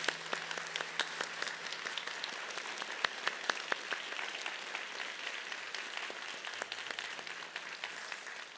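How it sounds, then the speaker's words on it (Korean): A church congregation claps for the choir after a Sunday service, giving a steady, fairly soft round of applause with sharper individual claps standing out now and then. "우리 성가대를 위해서 우리 뜨거운 응원의 박수, 격려의 박수 한번 부탁드립니다"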